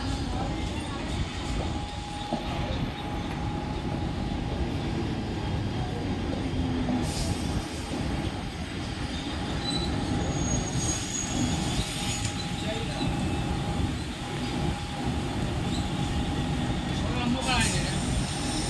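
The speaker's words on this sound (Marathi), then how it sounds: "local arrived on platform number 1" A Mumbai local train rumbles steadily into a station platform, with continuous wheel and carriage noise, occasional squeals and clanks, and voices faintly mixed in.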